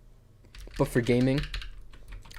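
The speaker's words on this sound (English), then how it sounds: "for typing, it's not the best experience, just because of the stabilizers and the keycaps" Keys clack on a Fnatic Streak65 gaming keyboard, a quick run of light taps close to the mic while someone speaks briefly over them.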